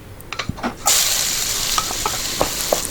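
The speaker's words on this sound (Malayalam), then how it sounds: "ആവശ്യത്തിന് കുറച്ച് വെളിച്ചെണ്ണ വെച്ചിട്ട് ഫസ്റ്റ് നമ്മളെ ഉള്ളി അതിലേക്ക് ഇടുകയാണ്" Onions hitting hot coconut oil in a pan: a few soft clicks and stirring taps, then a sudden loud, steady sizzle that holds, with occasional stirring knocks, close and alone.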